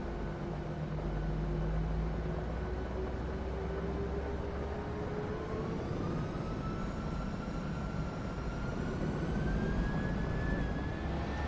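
A PMDG 737NG jet in a flight simulator spools up its engines for takeoff, a steady low roar with a whine that climbs gradually in pitch, moderately loud and continuous throughout.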